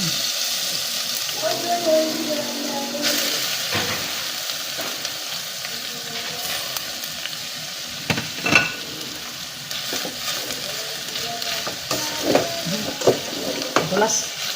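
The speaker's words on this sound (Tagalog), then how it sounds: "Tapos ihalo na natin yung labong." Bamboo shoots with shrimp being stirred in a frying pan, steady sizzling with intermittent scraping and clattering of the spatula, a few soft voices in the background.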